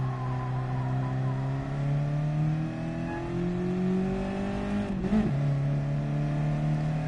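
An old-style Mazda sports car in Gran Turismo 7 hums at a steady engine pitch, then revs up and down around the middle before settling back into a continuous drone, close and fairly loud with no talking.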